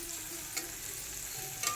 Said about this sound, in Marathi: लसणाची फोडणी देऊन मिरची वाटलेली आपण परतून घ्यायचं आहे.